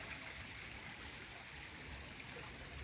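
A river flows at a riverbank with a constant, faint broadband rush of running water, steady throughout and without talk.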